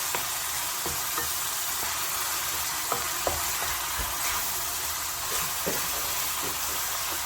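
Minced meat filling with onion sizzles and fries in a pan, a steady hiss broken by scraping stirs of a spoon against the pan at irregular intervals, close and fairly quiet.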